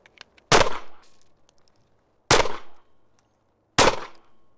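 Three loud, close handgun shots from a Taurus pistol fired at a target, spaced about one and a half seconds apart, each followed by a brief ringing decay outdoors.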